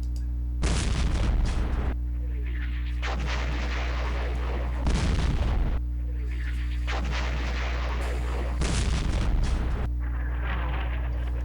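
Artillery fire in the Campaign Series West Front wargame, with four heavy booming blasts spaced a few seconds apart, each followed by a rumbling, crackling decay over a steady low hum.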